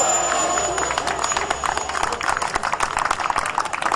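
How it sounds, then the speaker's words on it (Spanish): Scattered outdoor clapping from onlookers after a Viper Jet MK2 turbine RC jet lands, a thin, uneven patter of hands with people talking over it. "Bravo, un aplausito."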